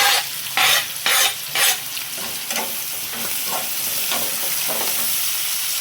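Curry leaves, onion and green chillies frying in hot oil with mustard seeds for chitranna, a lemon-style rice dish, with steady sizzling and several bursts of stirring scrapes early on, close and without speech.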